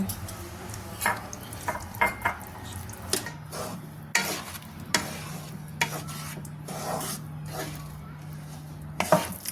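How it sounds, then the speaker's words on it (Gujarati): A spoon stirs chopped jaggery into a ghee and flour mixture in a pan for sukhadi, giving repeated close scraping and rubbing strokes in an uneven rhythm over a soft sizzle and low hum. "ઝીણો ઝીણો સમારેલો ગોળ એમાં ઉમેરી ને હલાવતું જવાનું છે"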